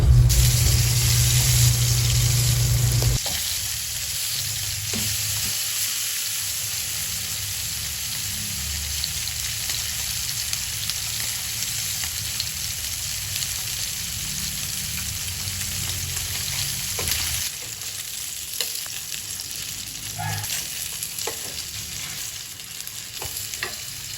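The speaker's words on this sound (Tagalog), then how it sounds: "Gusto ko lang siyang iprito ulit guys" Chicken adobo fries again in a pan: a loud burst of sizzling at first, then a long steady frying hiss with occasional clinks and stirring scrapes, no voices.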